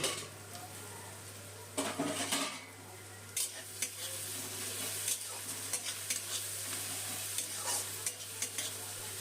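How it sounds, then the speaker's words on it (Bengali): Steady sizzling of onions frying in a covered pan, broken by repeated scraping stirs and occasional clinks of a utensil against the pan. "পেঁয়াজ ভাজার সময় পরে ঢাকাটা দিয়ে দিলাম তাহলে পেঁয়াজ ভাজাটা একটু তাড়াতাড়ি হয়ে যাবে"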